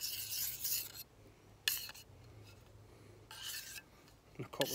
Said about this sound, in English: And a couple of strokes just to get the burrs off.